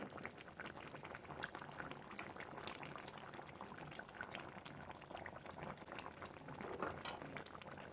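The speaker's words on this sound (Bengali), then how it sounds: "দেখছেন কি সুন্দর ফুটছে এটা" Fish curry bubbles steadily in a pot, a continuous soft hiss and gurgle with small pops, faint and unbroken throughout.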